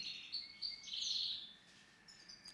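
A small caged songbird, a goldfinch, sings a bright, high warbling phrase with rapid trills, fairly close, in an otherwise quiet room.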